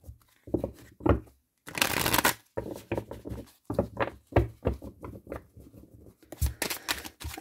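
Oracle card deck being shuffled by hand, a close series of quick riffling bursts and soft slaps with brief gaps between them, with no talk.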